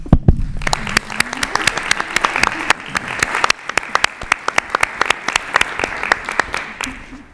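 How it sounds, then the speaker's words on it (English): An audience at an annual school district meeting gives a loud, sustained round of clapping for a departing board member, with dense claps throughout the whole stretch and a few voices underneath. "So I'd like to have a round of applause for Kelly."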